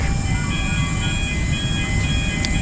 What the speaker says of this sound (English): There's a heck of a noise with the jetway, so well, it sounds like a train